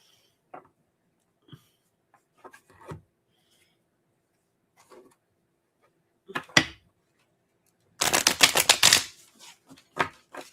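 Cards are shuffled in a quick burst of rapid riffling flutters, preceded by scattered soft clicks and handling taps in an otherwise quiet room.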